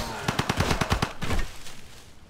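Rapid machine gun bursts in Civilization V, about ten sharp shots in a quick even rhythm, then a rumbling blast that fades out. The sounds are loud and close, with no talking.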